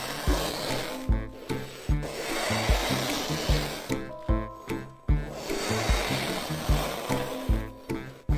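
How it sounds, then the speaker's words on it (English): A knife scraping and sawing through a block of frozen yogurt, with repeated rough rasping strokes, each ending in a sharp crunch, close up and with no talking. "the satisfying sound of the knife cutting through frozen yogurt"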